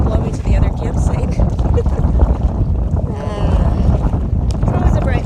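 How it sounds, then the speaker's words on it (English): Wind blowing hard at a wilderness canoe campsite, a loud continuous rumbling roar buffeting the microphone throughout, with talking over it. "the wind is blowing this way"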